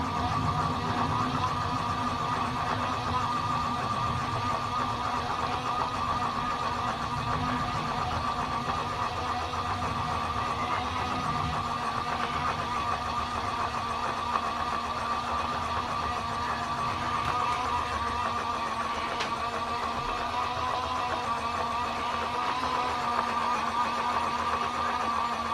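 A beauty blender washing machine spins a sponge tip side down, giving a steady, continuous mechanical whir with a constant hum throughout, faint and unbroken, with no voices.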